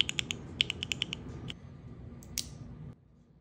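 A mechanical keyboard fitted with Gateron Oil King switches types in a quick run of crisp, close clicks, followed by a few scattered keystrokes and a quiet tail.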